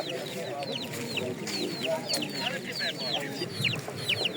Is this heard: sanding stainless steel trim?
no